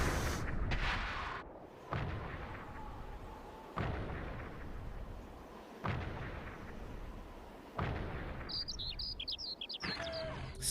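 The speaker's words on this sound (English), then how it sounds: "Space birds." Birds chirp in short high bursts near the end of a scene from the anime film Voices of a Distant Star, following a series of heavy booming blasts that dominate the opening.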